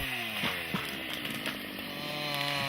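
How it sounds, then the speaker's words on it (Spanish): A chainsaw cuts timber in commercial forestry, its engine a steady, loud, buzzing drone with slight pitch shifts as it bites into the wood, close by and continuous. "Con motosierra, un trabajador cosecha 780 toneladas de madera por mes."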